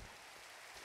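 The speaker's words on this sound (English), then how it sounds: "It was raining and now it's snowing." Rain falls in the Minecraft video game as a soft, even hiss of a steady downpour, brief and fairly quiet.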